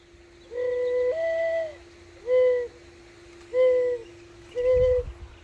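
A person in a backyard imitates dove calls to draw in doves, giving four smooth, hollow, hooting coos with pauses between them over a steady low background hum.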